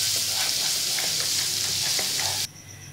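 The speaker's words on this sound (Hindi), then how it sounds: "ये हमने 6 टेबलस्पून ऑयल ले लिया, इसमें 1 टेबलस्पून चॉप्ड गार्लिक डाल देंगे हम।" A tablespoon of chopped garlic fries in six tablespoons of hot oil, probably for Chicken Manchurian, with a close, steady sizzle and light stirring for about two and a half seconds before it drops to a quieter hiss.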